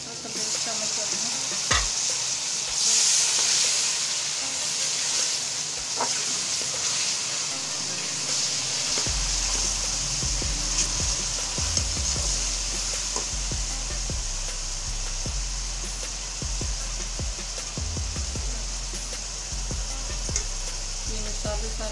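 Tomato paste frying and sizzling in a pan for a mixed vegetable pulao, with steady hiss and repeated scraping stirs growing heavier partway through; no one speaks.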